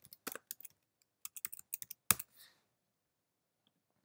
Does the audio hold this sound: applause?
no